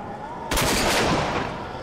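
A sudden loud burst of gunfire erupts in the shooter game Rage after a brief quiet moment, a dense sustained roar of shots that slowly tapers off.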